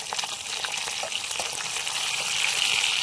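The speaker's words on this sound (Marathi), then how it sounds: "आता पलटून घेऊ दुसऱ्या साईडनं पण असेच तेलात फ्राय करून घेऊ।" Fish fries in hot oil in a pan with a steady, close sizzling hiss that swells slightly toward the end, no talking.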